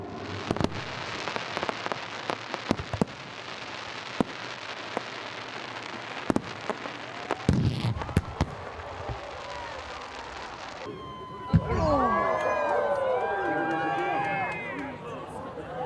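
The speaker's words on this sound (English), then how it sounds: "you're going to see some aerobatics, you're going to see some fireworks, you're going to see a lot of pyrotechnics and different things" Night fireworks and pyrotechnics at the EAA AirVenture air show: scattered sharp cracks and pops from mid-distance, then a burst of whistling, crackling effects near the end, with crowd noise and voices around.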